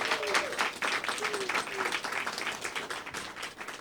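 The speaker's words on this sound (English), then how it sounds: "let's give all of them and the other 47 poets in the collection a big round of applause" Audience at a poetry book panel event applauds steadily for the poets, a dense wash of clapping throughout with a few faint voices beneath.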